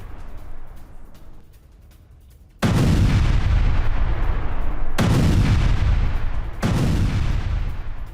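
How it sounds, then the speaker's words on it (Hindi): An IDF controlled blast destroying a Hezbollah tunnel: after a low quiet rumble, a huge sudden boom erupts, followed by two more heavy booming blasts in succession, each with a long roaring decay. "ये वही ब्लास्ट है जिसके जरिए हिजबुल्लाह की सुरंग को आईडीएफ ने उड़ा दिया है।"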